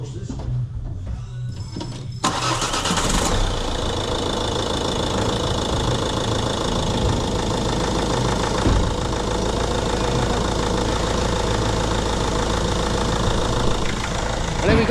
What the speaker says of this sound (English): Now let's get on the key and give it a big start.